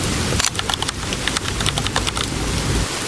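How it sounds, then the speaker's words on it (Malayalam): Heavy rain pouring at night around a home during a thunderstorm, a dense continuous hiss with irregular sharp drops and splashes spattering nearby. "ഇപ്പൊ ഇവിടെ ഭയങ്കര മഴയാണ്"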